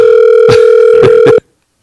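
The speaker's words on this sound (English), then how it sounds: "This is two old guys making a phone call." A steady telephone dial tone on an old landline as two older men place a call, holding loud and unbroken for about a second and a half before cutting off abruptly, with a few soft clicks and knocks underneath.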